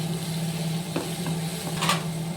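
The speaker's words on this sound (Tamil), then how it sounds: "குடமிளகாலாம் வந்து நம்ம ரொம்ப வதக்க வேண்டாம் ஓரளவு வதக்கினாலே போதும்" Capsicum sautéing in a pan for a chicken-stuffed poori filling, a steady low sizzle with occasional soft stirring scrapes and a brief clink near the end, close and continuous.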